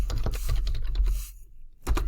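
Someone types quickly on a computer keyboard while writing Javadoc comments for Java code, a close run of light clicky keystrokes that stops briefly near the end before one last tap.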